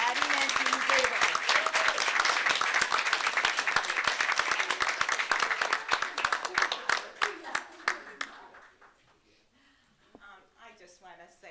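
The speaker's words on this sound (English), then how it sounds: "Now let's give a round of applause to celebrate my colleague and friend" An audience at a Cuyahoga Falls City Schools board meeting gives a colleague a full round of applause: dense, loud clapping that thins into scattered claps and fades out, with a voice speaking at the end.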